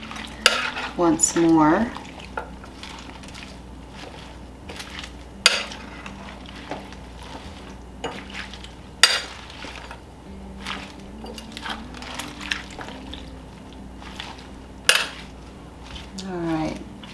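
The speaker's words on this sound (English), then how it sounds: "now we'll stir this together" Ingredients for a German potato soup are stirred together in a slow cooker, giving repeated close scrapes and wet, squishing knocks of a spoon against the pot, with a voice talking briefly now and then.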